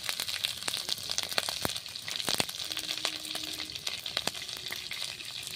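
Cumin seeds and chopped green chilies sizzle in hot oil for jeera aloo, with a steady crackling fry broken by sharp spatters and a few stirring scrapes, close and fairly quiet with no voices.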